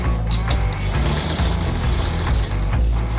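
Sewing machine stitching the outer seam of a plazo, running as a loud, steady, close mechanical whir with a rapid, even rhythm.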